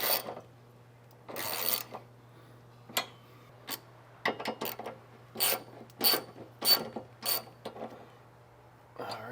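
A ratchet snugs the sway bar mount brackets on a VB Subaru WRX, giving bursts of rapid pawl clicking in irregular strokes, close and fairly loud over a low steady hum.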